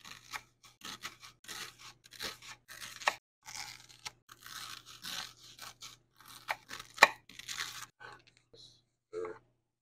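Onions being cut with a knife, a run of crisp, irregular crunching chops close by, some slicing strokes, ending in a few isolated cuts, with occasional talk mixed in.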